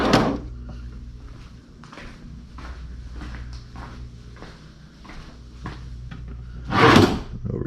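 A bedside drawer in a hotel room slid open and shut, with a series of soft wooden rubs and knocks and a louder final thunk as it closes, heard close up with no talking.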